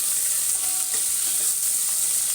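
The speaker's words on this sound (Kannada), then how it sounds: "ಈರುಳ್ಳಿ ಸ್ವಲ್ಪ ಫ್ರೈ ಮಾಡ್ಕೋಬೇಕು." Finely chopped onion fries in a pan for eralikai rasam, a steady close sizzle with faint stirring scrapes and no one speaking.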